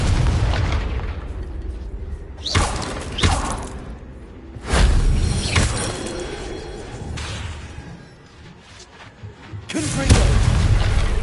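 Several booming fire-spell explosions from the Confringo spell in Hogwarts Legacy burst out loudly one after another, each with a sharp whooshing onset and a rumbling tail, spaced a few seconds apart.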